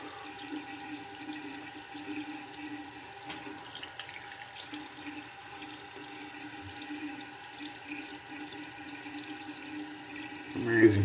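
Tap water runs steadily into a sink as a face is wetted during a shave, a continuous close rushing stream at moderate volume with a brief louder splash at the end.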